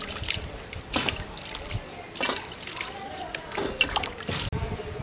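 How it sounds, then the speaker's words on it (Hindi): Water trickles and splashes as an ash gourd (petha pumpkin) is washed by hand in a kitchen, with intermittent sloshing and dribbling bursts throughout, close and moderately loud. "तो चलिए हम इसे अच्छे से धो लेते हैं।"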